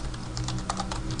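A web address typed on a computer keyboard, a quick run of close, crisp key clicks at an uneven rhythm, alone.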